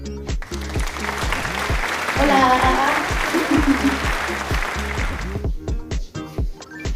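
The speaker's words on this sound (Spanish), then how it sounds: "Denles un fuerte aplauso." Applause for a guest on a Spanish-language podcast, clapping rising from the start and holding steady, with a voice speaking over it near the end.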